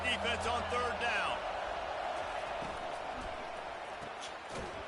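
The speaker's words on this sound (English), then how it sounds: "Decibels rising as the crowd gets behind this defense on 3rd down." Stadium crowd noise swelling on third down in the college football game NCAA 25, a broad, steady roar of the crowd filling the space with thumps and game sounds while a commentator talks over it.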